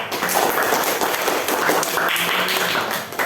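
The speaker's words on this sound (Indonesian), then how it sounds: "Tepuk tangan untuk kelompok 4." A classroom of students applauds a student group after its presentation, a dense burst of hand clapping that stays steady and fairly loud for several seconds without talking.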